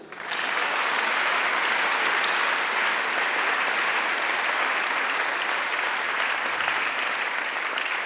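Steady, sustained applause from a large crowd, even and loud from start to finish with no pauses.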